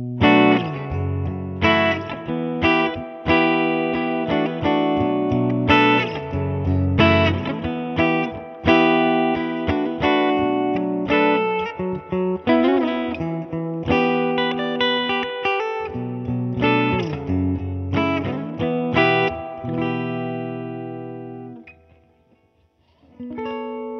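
Semi-hollow electric guitar in the style of a Gibson ES-335, budget model, played with both pickups selected through effects, with chiming chords and single-note runs ringing loud and steady for over twenty seconds before a final fade.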